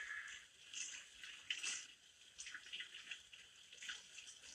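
Water runs from a tap in a home kitchen, a quiet, uneven hiss and splash with soft surges and no talking.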